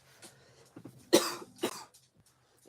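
A few dry coughs, one sharp and loud followed by a second weaker one and some small throat sounds, close to the microphone in a quiet room.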